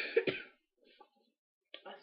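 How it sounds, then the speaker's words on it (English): Two quick, harsh coughs up close, then quiet, followed by a faint throat sound and another short cough. "I'm coughing like crazy here."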